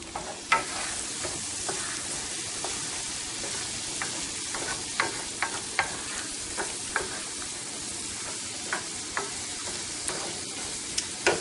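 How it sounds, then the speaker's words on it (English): A cream sauce roux for homemade mac and cheese with goat Colby cheese sizzles softly in a pan. It is stirred with faint, scattered utensil ticks over a continuous low frying hiss, with no speech. "I'm going to stir this real quick."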